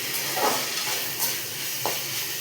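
Tomatoes softening in hot oil in a pan for a tamarind curry with sundakkai, giving a steady soft sizzle with a few faint scraping stirs, close and alone with no talking.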